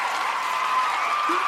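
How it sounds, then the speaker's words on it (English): Stadium crowd cheering and applauding at a Rams football game, a dense, steady wash of noise that holds at the same level throughout without a break. "They're cheering."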